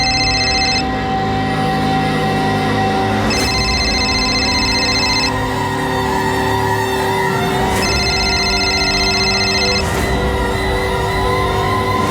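A telephone rings repeatedly and goes unanswered, bursts of a bright electronic ring recurring every few seconds over a steady, loud background hum, with no voices.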